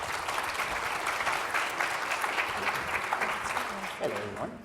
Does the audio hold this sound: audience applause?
yes